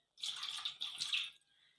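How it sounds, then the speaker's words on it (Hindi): Lukewarm water is poured into a bowl for dough, a short close splashing trickle in two quick pours lasting about a second, quiet and without talk. "साथ हम नीम गर्म पानी लेंगे।"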